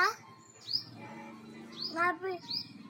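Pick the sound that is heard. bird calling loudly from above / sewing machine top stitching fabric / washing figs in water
bird calling loudly from above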